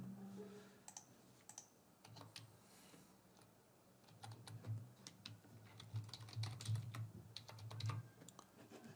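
Close keys clatter on a computer keyboard as a mobile number is typed into a payment form, in quick irregular bursts of clicks that grow busier toward the end, with no talking.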